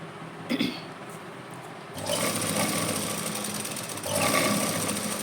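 A domestic sewing machine runs in steady bursts, stitching fabric for a garment neckline design, its motor whirring close and continuous with a brief pause between runs.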